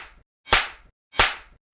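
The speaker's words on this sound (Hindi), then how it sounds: "जैसे ही झुमझुम ने ताली बजाई," Two crisp hand claps from Jhumjhum, an animated cartoon genie, each a sharp smack with a short ringing tail and a clean gap between them, plus clipped claps at the very start and end; no other sounds.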